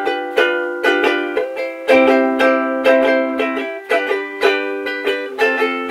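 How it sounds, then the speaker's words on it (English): Up close, a ukulele is strummed with a Bolo pick in a steady rhythmic pattern of chords, clear attacks with sustained ringing, changing chord partway through, moderately loud and without speech. "And then back to the Bolo pick."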